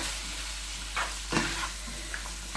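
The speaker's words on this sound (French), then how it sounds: "I leave this one to fry just like that because onion, tomato, there's water inside of them." Onion and tomato fry in a pan with a steady close sizzle, broken by a few soft stirring scrapes and bumps.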